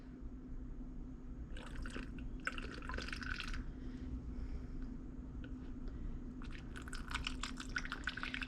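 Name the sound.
pouring witch hazel into distilled water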